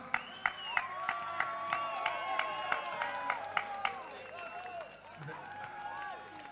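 Audience applause at the Tușnad Gastro Blues Fest, an outdoor blues concert, with scattered sharp claps and some voices over a steady crowd murmur.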